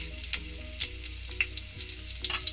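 Cumin, red chilli and turmeric sautéing in hot oil in a skillet for aloo subzi, a quiet steady sizzle with scattered light pops and faint stirring, no talking.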